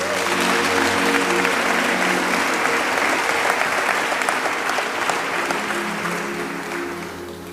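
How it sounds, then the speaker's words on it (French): A church congregation applauds steadily and loudly throughout, a dense sustained clapping that tapers slightly toward the end. "Acclamons le Seigneur."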